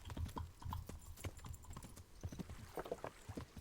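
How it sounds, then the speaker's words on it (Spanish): Horse hooves clip-clopping at a steady trot on a hard path in Kingdom Come: Deliverance, quiet and rhythmic, with faint rattles and a light snort, and no talk. "Vamos en caballo, que vamos más rápido."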